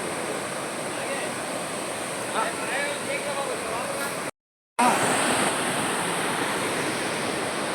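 Water at Devarapalli waterfall near Visakhapatnam rushes into holes in the rocks, making a loud, continuous roar like surf. Faint voices sit beneath it, and the sound cuts out briefly partway through.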